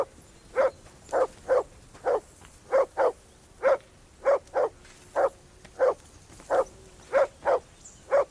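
A dog barks in Kingdom Come: Deliverance 2, sending out about sixteen loud, evenly spaced single barks, some in quick pairs, close and alone.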